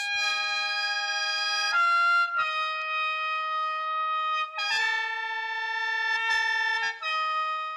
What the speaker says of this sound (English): This is the sound of the Korean wind instrument, the senghwang.